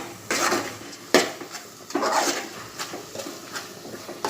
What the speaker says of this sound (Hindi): अब मैं ये सब मसाले प्याज और टमाटर में अच्छे से मिक्स करूँगी और थोड़ी देर पकाऊंगी अच्छे से।